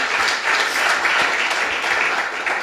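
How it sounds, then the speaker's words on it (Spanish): Dense crowd applause at a church service, steady clapping from many hands sustained throughout without pause. "Pero dale un aplauso que vive, claro que sí."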